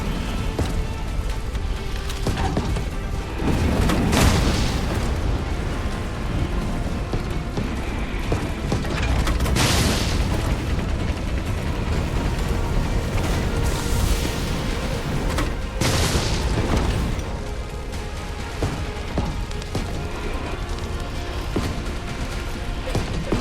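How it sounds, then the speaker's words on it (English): Grenade explosions in Resident Evil 3 Remake: several heavy booms burst out over a steady, loud roar of combat noise, spaced a few seconds apart. "He's gonna sidestep my grenades now."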